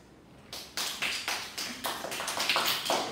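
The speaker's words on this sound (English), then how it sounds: "Can I have a round of applause for Nguyen, please?" Applause for a student debater at a school debate: a spread of individual hand claps builds into irregular, moderately quiet clapping from a small audience that lasts a few seconds.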